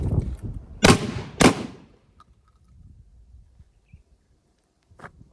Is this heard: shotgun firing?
yes